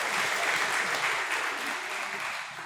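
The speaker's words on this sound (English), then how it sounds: "Let us give a clap offering to" A church congregation gives a clap offering at a Sunday worship service, a dense, even wash of many hands clapping together that holds steady for a few seconds before starting to thin.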